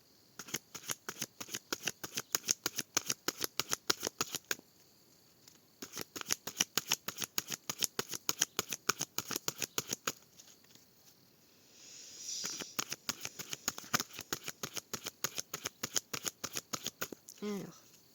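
Oracle cards from the Le Chant des Druidesses deck are shuffled in repeated rapid riffling bursts, crisp close flicks in rhythmic runs separated by short pauses, with a voice speaking briefly partway through.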